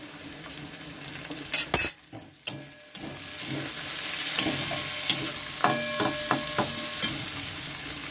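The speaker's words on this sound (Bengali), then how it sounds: "এবার কাঁচা লঙ্কাটা দিয়ে দিলাম।" Green chillies drop into hot spices in a pan while prawn and ash gourd curry cooks, giving a soft sizzle with a few sharp clinks of a utensil against the pan and steady frying hiss throughout.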